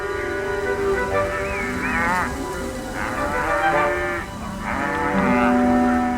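Grey Hungarian cattle on the salt-pond grasslands of Fertő-Hanság National Park low repeatedly, several long, loud moos overlapping one another over steady outdoor background noise.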